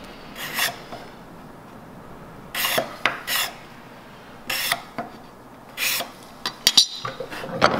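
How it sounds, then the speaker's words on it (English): A card scraper smoothing the wooden body of a handmade Japanese kanna hand plane, making a series of short, close rasping strokes at irregular intervals with quiet pauses in between. "I like to come back and ferret down with this card scraper"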